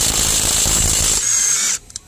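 A cordless 1/2-inch impact wrench rated 800 Nm hammers loudly at close range on a 22 mm bolt, a dense rattling burst lasting under two seconds, then stops abruptly.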